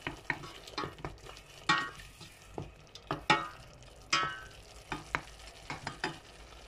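A spoon stirs tomatoes, garlic and coriander frying in a pan, giving irregular scraping clacks over a soft background sizzle, close and fairly quiet with no talk.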